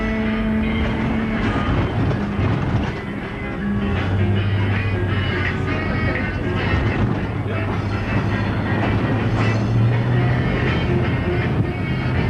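A San Diego trolley rolls along its rails with a steady, loud rumble and rattle throughout, a low hum rising underneath partway through, no talk audible over the ride.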